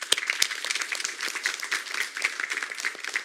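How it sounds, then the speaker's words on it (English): Audience applause at a community gathering honoring Coach Ayon, a thin, uneven patter of hands clapping with a few sharper claps, moderately quiet throughout. "give him a round of applause"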